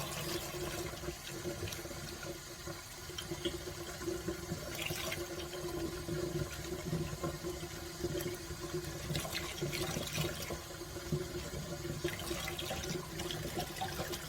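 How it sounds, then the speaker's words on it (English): Tap water running steadily to rinse glass etching cream off a vinyl-stenciled glass, a continuous close splashing wash with a few brief louder gushes, no voices. "Rinsing the etching cream off and then peeling off our vinyl."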